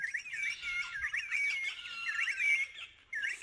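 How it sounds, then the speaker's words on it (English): Several birds chirp and twitter busily in high, repeated bursts, fairly faint and somewhat distant, with no voices. "We have very noisy birds here."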